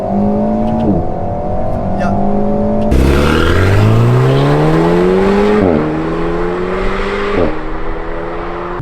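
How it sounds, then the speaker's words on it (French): Alpine A110 sports car with its engine revving hard through rising gear pulls, pitch climbing and dropping at each shift, with exhaust pops on lift-off and a faint turbo whoosh; someone speaks briefly over the loud, close engine. "dès que je lâche le pied un peu, il y a des explosions à échappement, on entend un peu le turbo, on entend vraiment le moteur qui fonctionne"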